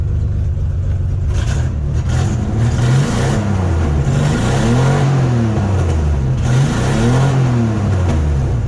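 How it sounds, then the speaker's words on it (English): An older Ford Bronco engine, just brought back to running order, revs up repeatedly in rising and falling sweeps, loud and close, settling between throttle blips. "Revs up now anyway"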